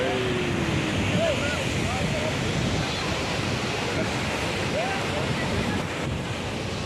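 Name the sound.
strong wind with spray at Jung waterfall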